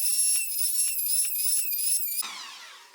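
A power tool whines at a high, steady pitch while removing dried epoxy from a wooden charcuterie board, the tone wavering with the pressure before winding down into a hiss.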